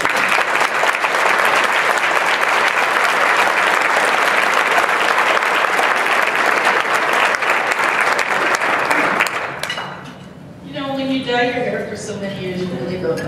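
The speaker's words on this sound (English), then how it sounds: "Please help me in giving Pat a round of applause" A luncheon audience gives Pat a sustained round of applause at a 2012 recognition event, loud and dense for about nine seconds before fading as a voice begins speaking over the room.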